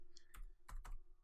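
A few quick keystrokes on a computer keyboard while logging in to a Kali Linux virtual machine: three short, close clicking bursts, fairly quiet and without any talk.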